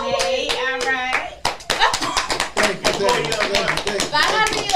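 Hands clap in a burst of applause among a few people in a podcast studio, sharp slaps close by and overlapping with speaking voices throughout.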